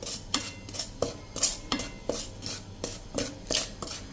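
Ragi and oats dry-roasting in a pan over a medium gas flame, stirred with a metal spoon that scrapes and clinks against the pan in a steady rhythm of repeated strokes, close and fairly quiet with no talking.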